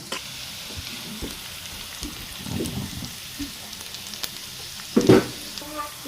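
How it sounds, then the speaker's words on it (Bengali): Chopped green chilies, garlic and onion hit hot oil for a bitter gourd and potato fry, a soft continuous sizzle with scattered pops, a couple of louder spatula scrapes and a clatter near the end. "তেল গরম হয়ে গিয়েছে, এখন এর ভেতর আমি দিয়ে দেব পরিমাণ মতো কাঁচামরিচ, রসুন কুচি, পেঁয়াজ কুচি।"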